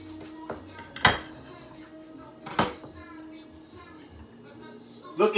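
Knife cutting through a turkey, egg white and cheese croissant sandwich, a few sharp crunching strokes and clacks on a board, close, with quiet room sound between cuts.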